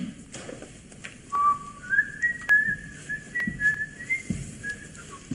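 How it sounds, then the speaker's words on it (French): A person whistles a simple melody of several sustained, wavering notes at mid distance, with brief pauses between phrases over quiet room background and a few soft thumps. "ne siffle pas"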